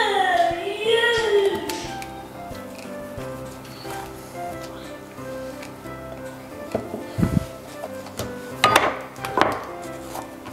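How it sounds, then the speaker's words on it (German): Dough for mini hazelnut crescents being kneaded by hand, heard as soft muffled pressing with a few sharper thumps and taps toward the end, after a short stretch of voice at the start. "den Teig werde ich jetzt einmal noch mal mit meiner Hand kneten"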